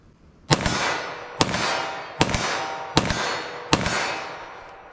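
Five sharp .40 S&W pistol shots fired at 25 yards in quick succession, each a loud crack with a ringing decay, spaced roughly evenly less than a second apart.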